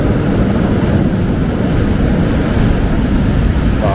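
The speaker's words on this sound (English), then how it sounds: "I've just got to be really careful of these waves because these are quite big." Big ocean waves surge against the rocky coast at Hartland in North Devon, a loud continuous roar of surf with wind buffeting the microphone and no voices.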